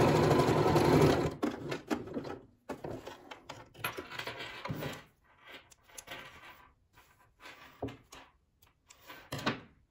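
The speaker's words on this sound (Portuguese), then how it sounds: "Eu jogo meu tecido pra dentro e passo uma costura." A sewing machine stitching a seam through fabric while making a small multipurpose pouch, running in a loud steady burst at first, then continuing in shorter stop-start runs with pauses between them.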